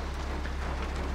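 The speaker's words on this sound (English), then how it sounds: "That rain's really picked up again out there." Heavy rain pours down outside a farm barn, a constant soft hiss of falling water over a low, steady hum, with no voices.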